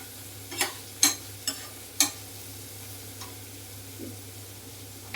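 Onions frying in a pan for cucumber fry, a soft low sizzle beneath a few sharp scraping stirs of a spatula spaced about a second apart, then quieter clinks.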